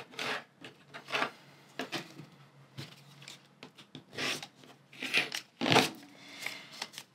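A quilt block being trimmed with a cutter and ruler, heard as a string of close, brief scraping and rubbing strokes with small taps between them, no talking.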